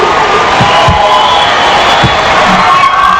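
A simulated crowd at a video-game NCAA national basketball championship game cheering, a loud continuous roar with scattered shouts and whoops.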